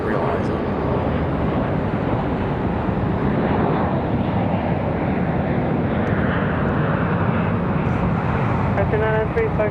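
An Endeavor regional jet departs Raleigh-Durham for LaGuardia, its engine roar loud and steady throughout, with wind buffeting the microphone and a voice talking underneath.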